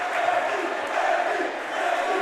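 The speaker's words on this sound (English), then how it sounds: "this place has erupted with that second free throw made by Wilkerson" High school basketball crowd roaring in a packed gym after a made free throw in the closing seconds, a loud sustained cheer with no pauses.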